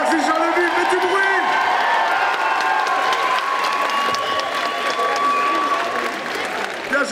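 A crowd at a cosplay show at a gaming festival in Charleville-Mézières applauds and cheers loudly and continuously, with whoops and shouts rising above the clapping, while a voice talks over it.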